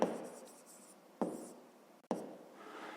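A pen or pencil writes a maths solution by hand on paper: three short scratchy strokes, close and quiet, each starting sharply and trailing off, with a faint hum between them.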